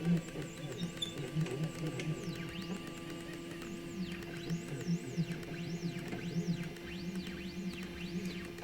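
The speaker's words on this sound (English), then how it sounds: "I'm going to jog the machine over to that spot." A Yora 3018 Pro desktop CNC machine jogs, its stepper motors whining in faint rising and falling sweeps over a steady electrical hum, quiet and without talk.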